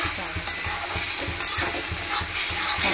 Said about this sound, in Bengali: এখানে এখন ভেটকি মাছগুলো ভেজে নিয়েছি, নিয়ে এখানে পেঁয়াজ আর টমেটো দিয়ে এটাকে ভালো করে ভেজে ভেজে